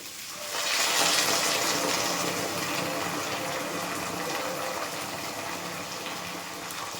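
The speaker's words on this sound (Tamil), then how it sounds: "இப்போ ஒரு 1/4 டம்ளர் தண்ணி ஊற்றுவோம்." Water pours steadily into a pan of sautéed broad beans, a continuous splashing gush that starts abruptly and holds at an even level, close and alone without talk.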